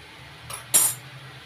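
A metal spoon scrapes and clinks against a pan while stirring stuffing mixed with garam masala, two quick bright metallic strokes over a low steady kitchen hum.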